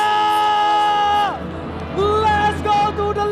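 Arena crowd at the MPL season 15 esports grand final in Jakarta, RRQ versus ONIC, cheering and shouting loudly after an announcer's call, with whoops rising over a sustained roar and music underneath.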